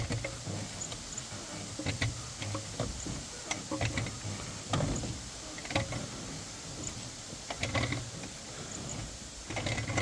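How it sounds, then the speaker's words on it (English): A 1958 Chevrolet Biscayne engine, parked for over 40 years, being turned over by hand with a pipe wrench on its pulley: steady mechanical ticking, clicking and grinding with repeated metallic knocks, close up and fairly loud. "so we got it now with a pipe wrench onto that onto the pulley here, and we're getting a bunch of consistent full rotations out of the motor here"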